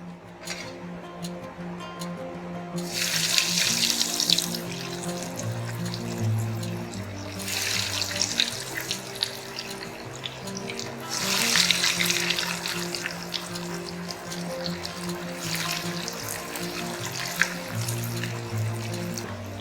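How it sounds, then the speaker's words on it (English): Corn and semolina balls dropped into hot oil in a kadai, the frying rising in loud bursts of crackling sizzle over a steady bubbling hiss. "Now let's drop in the corn balls one by one and cook them."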